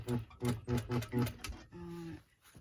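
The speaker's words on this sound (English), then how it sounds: "now I'm going to top stitch" A sewing machine topstitches a blouse collar about 1 mm from the seam line, with four close motor bursts in a steady rhythm followed by a longer run and a stop.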